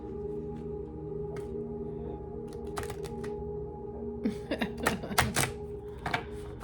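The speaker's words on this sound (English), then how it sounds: "That was sort of a shuffle." A deck of oracle cards riffles and snaps in a few quick bursts toward the end, after some soft tapping and handling noises, close up.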